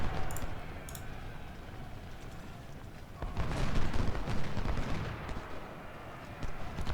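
Grape shot and canister shot artillery fire in the Ultimate General Civil War game at Parkers Crossroads, a dense continuous rumble of booming cannon and crackling gunfire that swells louder halfway through.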